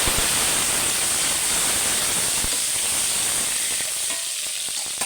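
Steady, loud sizzling of tomatoes frying in hot oil, a continuous crackling hiss with a few stirring scrapes near the end.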